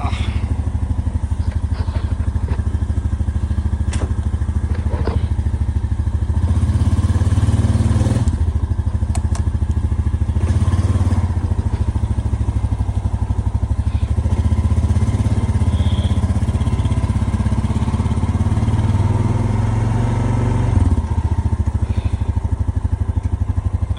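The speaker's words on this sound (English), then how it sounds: "Here's my ATV. Got it fired up. Let's go out for a ride." A 2020 Honda Rubicon Deluxe ATV runs steadily as it is ridden through Kentucky woods, a loud, close engine drone that swells in a few stronger surges, with faint clicks and knocks along the trail.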